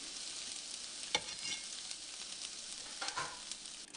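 Diced red pepper sizzles steadily in a frying pan, a soft continuous hiss with a few stirring clicks and scrapes, heard close and alone without talking.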